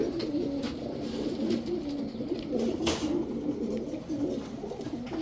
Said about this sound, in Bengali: পাকিস্তানি রামপুরি, এটা হচ্ছে নর, স্ট্যান্ডিং দেখছেন, এই হচ্ছে তার মাদি